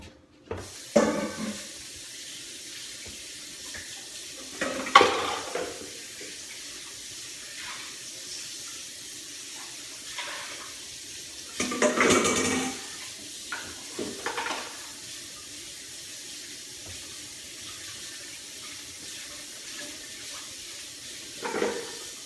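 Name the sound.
washing a bowl under running tap water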